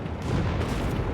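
A booming tank gun blast or its heavy rumbling aftermath from the 7.6mm gun in Company of Heroes 3 fills a brief, dense moment of battle noise. It sounds loud and close.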